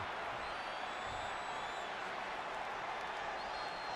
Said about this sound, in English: here come the Iconics, pouring it on in front of their home crowd